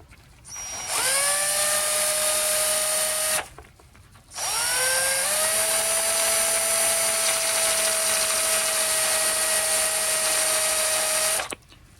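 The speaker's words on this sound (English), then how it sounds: "chuck it up in a little drill. Some very fine sandpaper." A small drill spins a part from a Daiwa 500C ultralight spinning reel against very fine 300-grit sandpaper, giving a loud steady high whine in two long runs separated by a brief pause.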